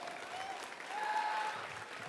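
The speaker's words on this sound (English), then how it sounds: "Round of applause, come on" Crowd applause at a StarCraft 2 esports event as casters are introduced, a brief, steady wash of clapping from a distant audience with a faint tone underneath.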